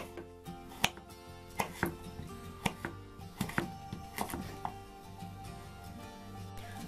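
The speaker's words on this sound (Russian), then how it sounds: "Очищенную и помытую морковь нарезаю кружочками" A knife slices carrots into rounds on a cutting board in irregular crisp knocks, about a dozen over several seconds, close and quiet, with no talking.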